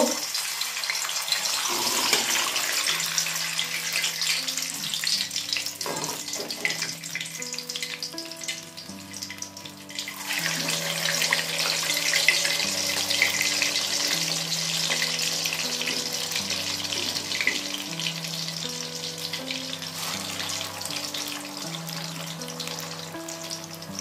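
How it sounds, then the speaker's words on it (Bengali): Mung bean pitha cakes fry in hot oil over a low flame, a steady soft sizzle running the whole time, with a faint melody playing underneath. "এবার আমি পিঠেগুলো একে একে ভেজে নেব"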